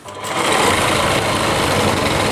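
A sewing machine stitches a heavy-work Rajputi lehenga, running as a steady, loud, continuous whir close by with no talk over it.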